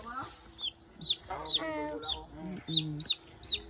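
Chickens cluck repeatedly in short, bright bursts, close by, with a low murmur of talk and background farm noise mixed in.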